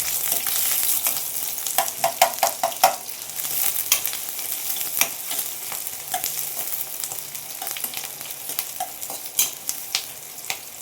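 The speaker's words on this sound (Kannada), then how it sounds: "ಸ್ವಲ್ಪ ಈರುಳ್ಳಿ ಚೆನ್ನಾಗಿ ಫ್ರೈ ಆಗಲಿ" Onions fry in a pan for jeera rice, a steady close sizzle broken by frequent sharp clicks and scrapes of a spoon stirring, with no one talking.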